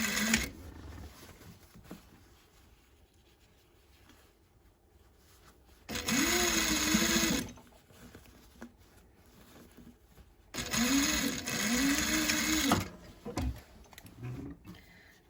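A sewing machine stitches a half-centimetre seam on a bag in two bursts of a few seconds each, a loud close whirring hum with quiet pauses between runs.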